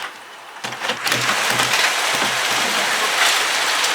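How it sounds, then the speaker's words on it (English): After a quiet moment, a sudden loud clattering hailstorm of big hailstones begins in Vienna, dense pelting on surfaces that continues steadily. "Looks like it's hailing now. Let's listen to it, shall we?"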